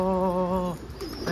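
A pigeon gives a close, clear coo lasting under a second, followed by faint rustling and a soft chirp.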